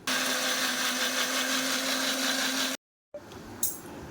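An electric mixer grinds mustard seeds with black cumin, salt and a little water into paste, a loud steady whirring motor for nearly three seconds that cuts off abruptly, followed by quieter jar handling and a clatter.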